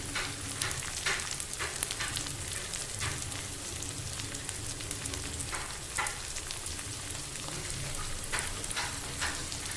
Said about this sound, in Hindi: और इसमें हम अपने चिकन के पीस फ्राई करेंगे